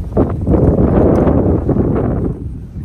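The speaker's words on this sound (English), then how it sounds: "It is so windy." Strong wind buffets the microphone in a loud, continuous low roar with rumbling gusts, fading slightly toward the end.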